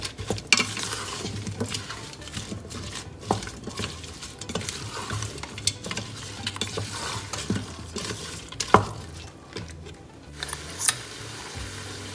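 Rice pulao with salt, Shahi Pulao masala and sugar is stirred in a pot, giving steady scraping and stirring sounds over a soft sizzle, with occasional louder clinks of the spoon against the pan.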